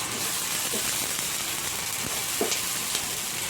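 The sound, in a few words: onions frying in a pan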